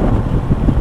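Strong wind buffets the microphone while riding a motorbike along a quiet coastal road in Banyuwangi on a solo tour from Jakarta to Bali, a steady loud low roar with gusty swells and no voices.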